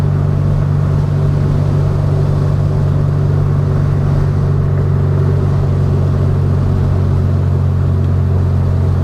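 A 1967 VW Beetle on the road gives a loud, constant low engine drone with a steady hum underneath, heard from inside the car, unbroken and without voices.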